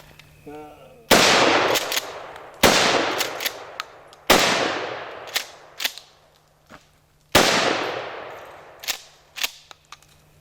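A Mossberg 590 Shockwave shotgun loaded with birdshot fires four loud, sharp blasts outdoors, each trailing off in a long echoing decay, with a few softer clicks of handling between shots.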